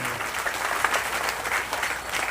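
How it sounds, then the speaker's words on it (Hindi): An audience applauds in honour of a revered guest at a religious gathering about the saint Kabir, a steady dense wash of many hands clapping at moderate distance, with no voices over it. "तो एक बार उनके नाम पर भी ताली बजना चाहिए"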